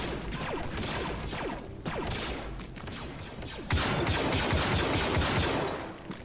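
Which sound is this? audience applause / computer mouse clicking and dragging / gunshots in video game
gunshots in video game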